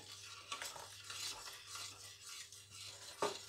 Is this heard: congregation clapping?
no